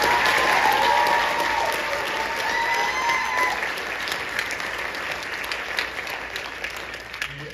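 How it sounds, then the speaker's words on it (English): Audience at a middle school spring choir concert applauding the choir, loud sustained clapping from a full room that eases slightly toward the end. "So please give them a round of applause for that"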